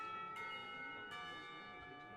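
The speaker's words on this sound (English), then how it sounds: "the lunch bell rings out" A school lunch bell in the visual novel game Katawa Shoujo rings with two clear, sustained bell strikes that hang and slowly fade, moderately loud with no talking.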